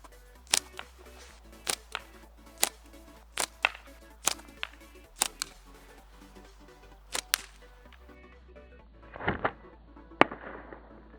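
A homemade Moorhammer slingshot fires marbles at a brick target outdoors, producing a series of sharp, isolated cracks spaced a second or so apart, then a brief rustling scrape and a final snap.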